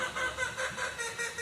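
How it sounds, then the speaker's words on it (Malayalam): Chickens cry in the background of a kitchen, with a faint, repeated pulsing of distant calls that continues throughout. "ബാക്ക്ഗ്രൗണ്ടിൽ ഭയങ്കരമായിട്ട് കോഴിയുടെ കരച്ചില് കേൾക്കാൻ പറ്റും"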